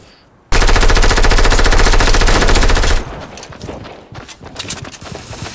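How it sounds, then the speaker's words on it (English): Rapid, loud automatic gunfire in a shooter video game: a sustained burst of dense rapid shots lasting a few seconds, then scattered quieter shots and game noise. "and he's shooting me behind him."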